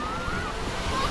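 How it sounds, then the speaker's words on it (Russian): Steady wind blowing at a hot seaside beach in Alanya, with a soft continuous rush of breeze and mic buffeting over the low wash of surf, no talk. "сейчас дует такой легенький, свеженький ветерочек"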